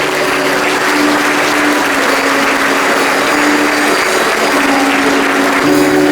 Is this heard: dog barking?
no